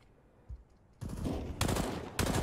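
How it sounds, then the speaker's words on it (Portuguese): Rapid automatic rifle fire in Counter-Strike: Global Offensive during a pro league match, bursts starting abruptly after a single faint shot and continuing loud and dense to the end, with no talk. "Ele tá atirando, ele tá bangando."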